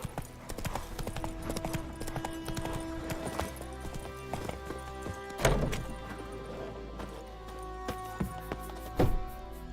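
Horse hooves clip-clopping in a gallop in The Witcher 3, a steady rapid rhythm of hoofbeats with a couple of louder thumps and faint neighing, no one speaking over it.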